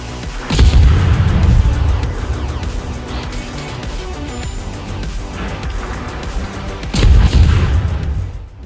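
Heavy naval guns boom twice in a German tier 2 destroyer, the IGN V-25, during a warship battle game, loud broadband blasts about six seconds apart with a steady rumble of engine and sea between them.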